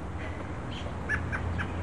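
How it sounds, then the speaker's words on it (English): A bird calls outdoors near a house in Salem, Oregon, giving a few faint, short chirps in quick succession over a steady background hiss. "Let's get that bird on tape here."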